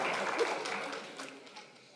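An audience in a university lecture hall claps, a soft patter of many hands fading gradually over two seconds, with a speaker's voice faintly mixed in.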